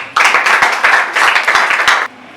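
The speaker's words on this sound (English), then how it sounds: "Please, can you clap for yourself?" Audience at a presentation in Nsukka clapping for themselves, a short loud burst of rhythmic handclaps that starts abruptly and stops after about two seconds.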